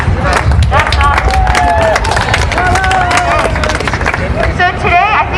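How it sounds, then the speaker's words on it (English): Rally crowd in Providence, Rhode Island clapping and cheering steadily throughout, with whoops and shouted voices over dense, continuous applause. "give yourself a round of applause"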